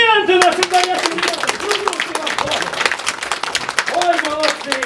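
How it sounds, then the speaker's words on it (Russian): An audience claps together at a New Year children's show, a dense, steady burst of applause that carries on for several seconds while a voice talks over it. "Аплодисменты наши, конечно!"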